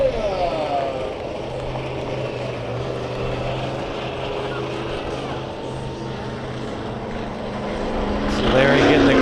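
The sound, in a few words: monster truck engine roaring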